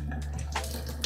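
Water runs from a kitchen 2-in-1 filter tap in a small house, a brief steady splashing stream that is fairly close and heard alone.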